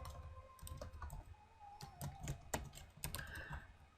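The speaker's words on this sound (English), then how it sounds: "then I'm going to type in ABC Childcare" Typing on a computer keyboard: quiet, irregular clicks and key taps in short clusters, close by, with a soft electronic tone in the background.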